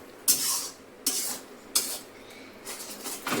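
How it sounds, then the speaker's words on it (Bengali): A spatula scraping and stirring coconut and green chilli paste in a pan, four sharp metallic strokes spaced roughly evenly, each followed by a short sizzling hiss, close by. "এটাও একটু কষিয়ে নেব।"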